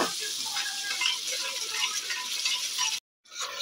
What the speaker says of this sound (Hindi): अब अच्छे तरह से हम सारे मसालों को भूनेंगे।